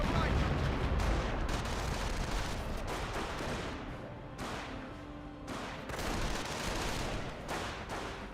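Dense, continuous gunfire and rumbling battle noise from the Company of Heroes video game, with sharper bursts standing out from a loud, steady din.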